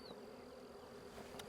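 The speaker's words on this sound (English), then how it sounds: "Now we've got a lot of bees still in this box here" Honeybees swarming around a swarm trap box, a steady close buzz of many insects with a few louder passes near the end, no talk.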